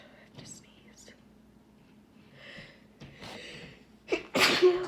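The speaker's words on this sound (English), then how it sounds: "Oh gosh, I just sneezed." A stuffy allergy sneeze from a woman, a sharp close burst at the end after some quiet breathy whispering and small sniffs.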